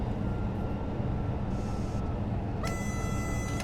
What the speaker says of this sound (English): There's the horn for those who want to hear it.